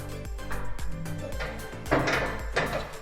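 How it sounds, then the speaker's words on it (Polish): A plastic splice tray slides back into the drawer of a fibre optic patch panel, giving close, soft scraping and knocking with several small clicks and a firmer bump near the end. "możemy włożyć naszą tackę tak naprawdę z powrotem do, e, do szuflady"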